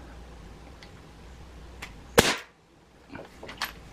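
One sharp crack from a Gamo PR-776 CO2 air revolver fired at targets, loud and close, standing alone against quiet background with a few faint clicks around it.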